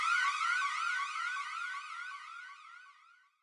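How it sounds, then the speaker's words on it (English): A blaring red alert alarm in a science-fiction audio drama wails in fast, warbling rising-and-falling sweeps, loud at first and then fading steadily to silence after about three seconds, with no voices. "red alarms start blaring as the screen turns red"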